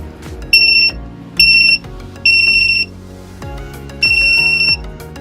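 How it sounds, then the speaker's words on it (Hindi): An Arduino buzzer triggered by an infrared proximity sensor beeps in bursts, four loud, shrill electronic tones each lasting under a second, separated by short pauses with faint handling noise between. "जैसे मैं अपने हाथ को इंफ्रारेड डायोड्स के सामने लेकर आता हूँ, तो हमारा बजर बीप करने लगता है"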